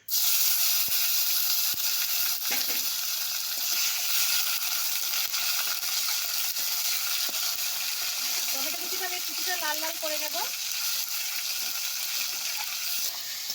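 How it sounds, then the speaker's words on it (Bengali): Chopped tomato goes into hot oil with whole dry red chillies, cumin and bay leaf, giving a steady soft sizzle and hiss throughout, with a brief squeaky scrape in the middle. "টমেটো কুচিটা দিয়ে দিচ্ছি"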